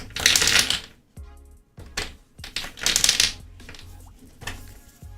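A deck of tarot cards is shuffled close up in bursts, crisp riffling flutters alternating with softer taps and short pauses, loud and intimate.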